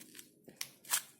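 Scissors cutting off extra material on a small handmade project, a few quick close snips in about a second, quiet and crisp.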